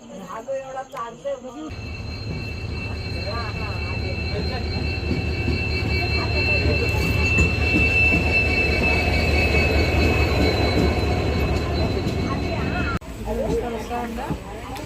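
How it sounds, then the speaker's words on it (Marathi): The Tutari Express rumbles loudly into Virawade station at close range, wheels clattering and high metallic squeals ringing steadily before the noise cuts off; brief voices at start and end. "आता तुतारी एक्सप्रेस येत आहे एंट्री होत आहे"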